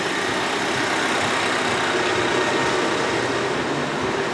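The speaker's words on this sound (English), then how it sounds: "right now the engine running." Engine of a 2010 Honda CR-V idling steadily with the hood open, a close, even mechanical hum and hiss holding constant throughout.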